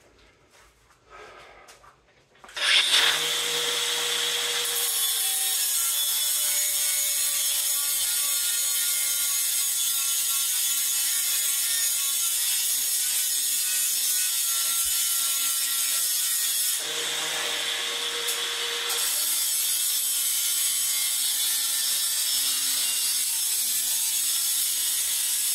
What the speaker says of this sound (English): Just cut the weld off.